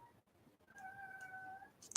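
A cat gives a single drawn-out meow of about a second, moderately close and fairly quiet, followed by a brief sharp click. Low background rumble underneath, with no talking.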